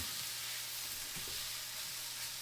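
Garlic cloves and caraway seeds fry in a pot with a steady, soft sizzle, a few faint scrapes of stirring breaking through near the middle.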